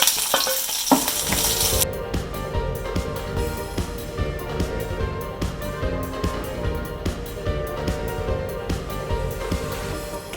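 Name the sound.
green chillies and curry leaves frying in oil for guava pickle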